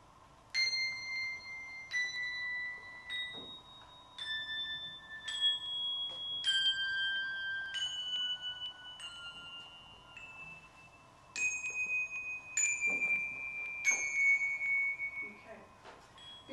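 Handbells, two held in one hand by each player, ring in a slow sequence of bright, decaying strikes, sometimes paired and sometimes single, over a steady hum and faint room noise.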